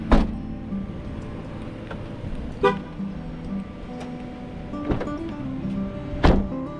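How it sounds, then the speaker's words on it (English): A 2016 Ford Fiesta answers its remote key as the trunk is opened, giving a few short sharp chirps and clunks spaced seconds apart against a quiet background. "Press twice to open up the trunk."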